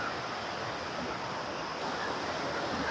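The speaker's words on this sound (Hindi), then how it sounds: "ठीक इसी के बगल में नदियाँ बहती है" Steady, broadband rushing of a river flowing beside a lawn in a hill village, a constant moderate wash of water with no breaks.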